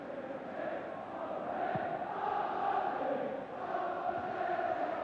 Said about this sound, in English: It's a good crowd and a good few thousand down from Aberdeen as well.